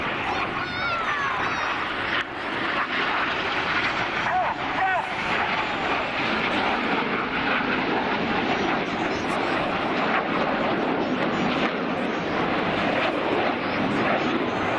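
RAF Red Arrows jets performing a flying display at Air Waves Portrush 2016, a steady broad roar of jet engines sustained throughout with wind noise, under a commentator talking.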